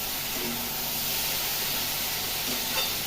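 Beans frying in a little oil with turmeric give a steady, dense sizzle and hiss, close and even throughout, with no talking.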